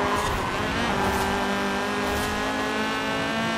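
A 2007 Honda Civic Type R engine in the racing game Forza Horizon 4 revs hard and steadily, a loud buzzing high-rpm howl with shifting pitch, heard alone with no talk.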